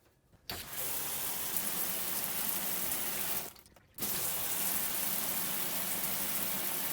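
Water runs from an RV shower in a loud, hissing stream, cutting off briefly partway through before gushing on again at full strength.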